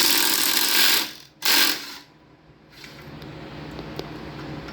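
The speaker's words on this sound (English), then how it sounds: "So I'm gonna go ahead and pull this clutch off." Hand tools are used to remove the clutch from a VW engine: two quick bursts of loud ratchet clicking, then a quieter stretch with faint scattered metallic ticks.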